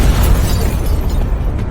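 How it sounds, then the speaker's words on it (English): Explosion sound effect for a fantasy battle: a loud, sustained booming roar with heavy low rumble and crackling debris, filling the whole moment before easing slightly at the end. "With a follow-up explosion, Fenya shattered them all."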